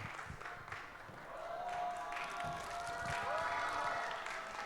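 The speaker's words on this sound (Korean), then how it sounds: "큰 박수와 환영으로 맞아주세요" A church youth worship congregation breaks into applause, a crowd's scattered clapping that swells and holds over soft sustained music in the background.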